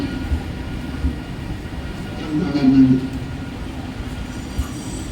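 A Mumbai slow local train rumbles at platform 1, with a low steady drone swelling briefly midway, and muffled station voices in the background.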